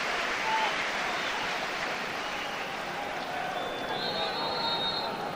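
A football stadium crowd at the 1999-2000 UEFA Cup fourth-round match between Leeds and Roma gives a steady, distant wash of applause for a substituted player, with broadcast commentary faintly underneath.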